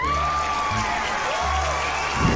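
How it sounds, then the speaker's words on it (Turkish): Steady applause from a small group, continuous clapping without a break, fairly close and even in loudness throughout, during a Roblox game. "Bir alkış alabilir miyiz? Alkış alalım."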